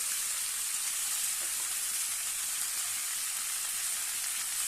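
Whole cumin seeds fry in hot oil for a vegetarian pulao, a steady, close, bright sizzle that hisses evenly throughout with no talking over it.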